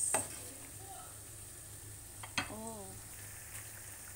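Chicken liver adobo fries in a pan while being stirred, a steady soft sizzle broken by a couple of sharp utensil knocks, with a brief voice and a faint tonal chirp partway through.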